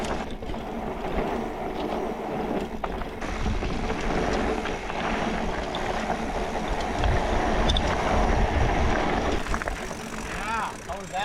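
Mountain bike rattling and clattering over a small dirt BMX track, a steady rough noise of chain slap and loose parts with wind rush throughout, fairly close and continuous.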